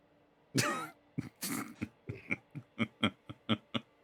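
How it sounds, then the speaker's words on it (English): A man sputters and coughs, as if coughing up blood while wincing in pain: two harsh, ragged bursts followed by a run of short, evenly spaced hacking coughs, close and fairly loud. "He sputters and begins to cough up a little bit of blood as he winces and holds his side once more."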